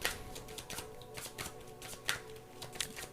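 Tarot cards being shuffled and drawn, a quick run of crisp riffling and flicking taps, close and clear with no talking.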